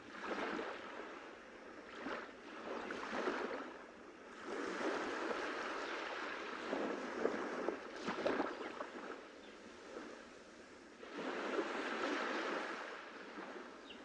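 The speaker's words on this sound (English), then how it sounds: "listen to the sounds of the ocean as the waves just flow in and out" Ocean waves wash in and out on a white sandy beach, a soft rolling surge that swells and fades in slow repeating cycles, fairly faint and steady with no voices.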